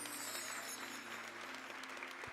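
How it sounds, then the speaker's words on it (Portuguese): A church congregation applauds during a sermon, a steady wash of distant clapping with a faint low hum underneath, continuing evenly and without any voices for the whole stretch. "Pode aplaudir a Ele."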